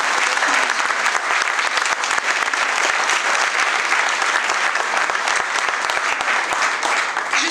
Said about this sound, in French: Nous pouvons les applaudir bien fort.